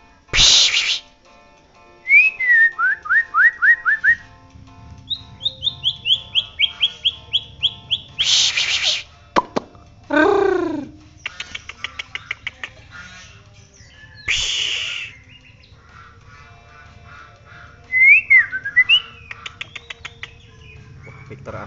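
A four-month-old white-rumped shama of the Bahorok strain sings nearby in varied bursts of whistled phrases, trills and rapid chattering notes, separated by short pauses, with a faint low hum underneath.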